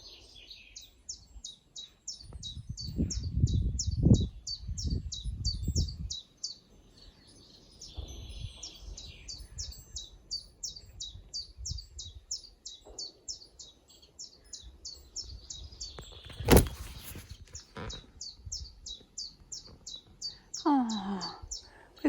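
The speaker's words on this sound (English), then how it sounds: "we've got some fancy birds singing this morning" Birds singing on a sunny morning, with a rapid repeated high chirping series that returns several times, scattered nearby calls and a brief sweeping note near the end, over soft low rustling and no speech.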